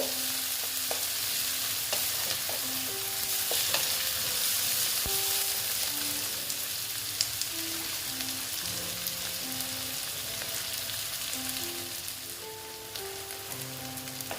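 Onions fry in a pan for a dried fish curry, a soft continuous sizzle with occasional spoon scrapes and light clinks as they are stirred, steady and fairly quiet throughout.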